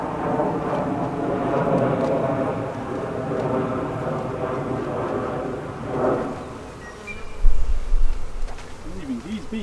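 Honeybees hum and buzz densely at an opened hive during a spring split, close and continuous, with low soft thumps and handling noise toward the end.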